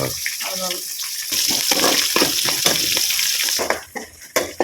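Onions sautéing in a pan over a wood-fired stove for a ragi kali and chicken dish give off a steady, close, broadband sizzle, with occasional stirring and scraping near the end.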